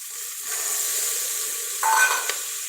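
Peas tipped into a pan of frying onions, with a steady sizzle that flares briefly louder as they land, then settles back to an even hiss.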